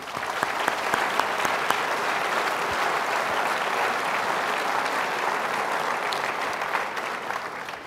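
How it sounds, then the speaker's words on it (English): Audience at a Reagan Forum breaks into sustained applause, a steady wash of many hands clapping evenly for several seconds with no talk over it. "So I'd like to give them a round of applause."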